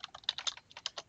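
Quiet, close typing on a computer keyboard while cutting and pasting names, a quick irregular run of light key clicks with no voices.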